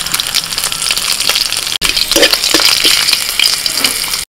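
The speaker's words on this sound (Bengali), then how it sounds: "তেজপাতা, শুকনো লঙ্কা, কাঁচা লঙ্কা ফোড়ন দিচ্ছি।" Bay leaf with dried and green chilies tempering in hot oil in a home kitchen, a loud, steady frying sizzle with crackles and stirring scrapes, briefly cut off near the end.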